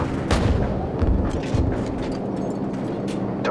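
Aerial strikes in Call of Duty 4: Modern Warfare, a dense run of deep booming blasts and rumbling impacts from above, several heavy thuds in the first half over a continuous low roar.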